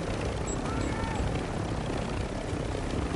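Aircraft flying in a video game, a loud, steady engine drone filling the whole clip, with voices talking over it.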